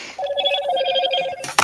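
A phone rings with a repeating electronic melody of bright tones in short pulses, followed by a brief louder click or clatter at the end.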